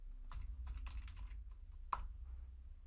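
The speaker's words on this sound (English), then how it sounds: "you'll first want to type Python and then hit the Enter or Return key on your keyboard" Faint keystrokes on a computer keyboard, a few irregular clicks over low background hum, with one sharper key press, likely Enter.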